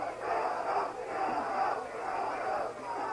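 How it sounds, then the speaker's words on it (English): Spectators at a boxing match between Vito Antuofermo and Hugo Corro jeer in displeasure, loud crowd voices rising and falling in three swelling waves. "Crowd is not happy with the action they've seen thus far."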